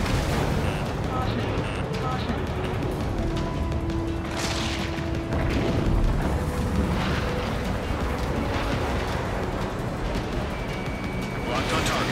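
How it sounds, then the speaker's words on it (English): Missile launches and rolling explosions from Ace Combat 7 jet combat, dense booms over a constant roar of engine and battle noise, with radio chatter and voices speaking throughout. "Spare 15, launching missile."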